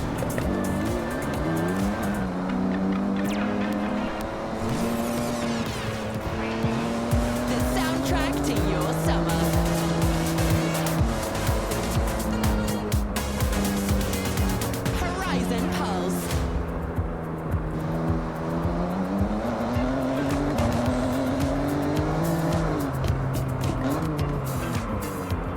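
A road car driven carefully at modest revs on slippery roads in Forza Horizon: a continuous engine drone rising and falling, with tire squeal and skidding throughout and someone talking over it.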